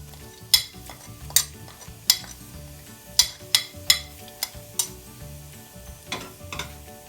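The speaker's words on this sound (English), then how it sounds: "our pan is hot and the oil is hot also. So let's put our jeera," Cumin seeds crackle in hot oil in a pan for chicken biryani: a steady soft sizzle punctuated by several sharp, clinking utensil strikes against the pan as they are stirred.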